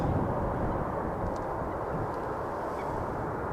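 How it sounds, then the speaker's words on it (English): A Lufthansa Airbus A320 at Amsterdam Schiphol Airport gives off a steady, broad jet roar, loud and continuous without any talking. "is a Lufthansa Airbus A320 in the Star Alliance livery going to Munich, 10 years old, delivered in June 2012"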